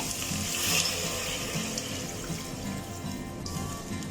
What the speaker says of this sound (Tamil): இந்த ஸ்டேஜ்ல நம்ம தண்ணி ஆட் பண்ண போறோம்.